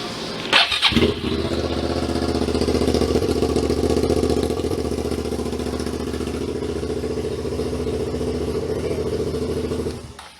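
A Suzuki SV650S motorcycle engine cranks with a brief clatter, catches, and settles into a steady, loud, close idle that runs for about ten seconds before cutting off.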